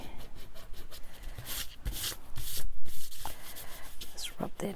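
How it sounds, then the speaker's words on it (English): Sandpaper rubbed back and forth over fabric to scrub off a spot of dried glue, a close, scratchy rasping in uneven bursts with brief pauses. "Let's rub that bit of glue off."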